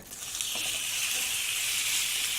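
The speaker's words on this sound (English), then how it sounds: "You can hear that nice sizzle." Steaks sizzle loudly in a hot griddle pan, a continuous bright hiss with faint crackles and no talking.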